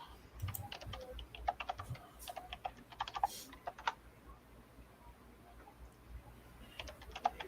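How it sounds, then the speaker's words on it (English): Typing on a computer keyboard while searching for a 1986 Warlord Annual online, with bursts of quick, close key clicks, a pause in the middle, then more keystrokes near the end. "just by typing the word omnibus in their search bar"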